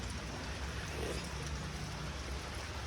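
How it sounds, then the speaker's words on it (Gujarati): Rain showers fall steadily in a continuous, faint patter and hiss, with no break or voices. "8 વાગે એટલે વરસાદનો થતો સોટા ચાલુ થઈ ગયા"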